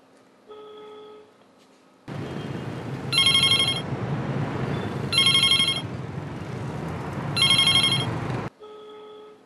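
A telephone rings in a Vietnamese drama scene, with repeated bright electronic ring bursts in a steady pattern over a dense background noise, and no talking.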